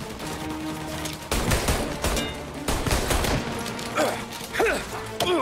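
Gunfire from Mafia: Definitive Edition, a shotgun and pistol in a street fight, with several loud close blasts and bursts of shots in a steady barrage lasting the whole span.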